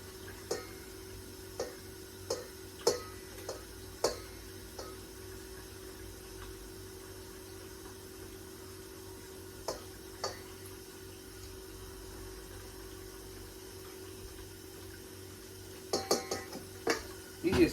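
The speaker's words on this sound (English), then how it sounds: "we're gonna just start chopping up my eggs" A knife chops boiled eggs for potato salad, a scattered series of light, sharp taps on a cutting board, close and soft, irregular in spacing with a quicker cluster near the end over a faint steady hum.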